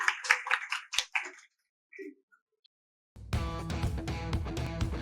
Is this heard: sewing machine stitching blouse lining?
no